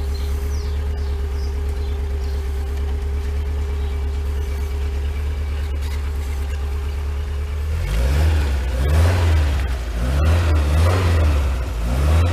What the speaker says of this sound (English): Here, the engine is running, charge up the battery.